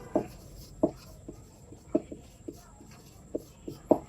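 Chalk or marker tapping and scraping on a classroom board during an English lesson, a series of short, separate strokes spaced unevenly, fairly faint and close, with no talking.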